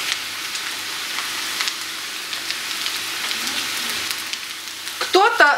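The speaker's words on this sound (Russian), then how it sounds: "После того, как картошка обжарилась до полуготовности, мы добавляем наш сочный лук." Potatoes fry in lard in a pan with a close, steady crackling sizzle, and onion drops in near the end with a louder burst of spitting; a voice speaks briefly at the close.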